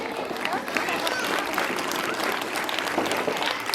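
An audience at a school Christmas program applauds two students with dense, continuous clapping that fills the room, and a voice is faintly audible underneath.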